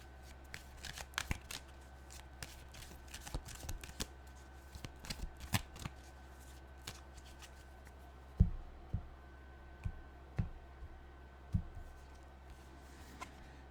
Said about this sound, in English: Let's get an animal card out here.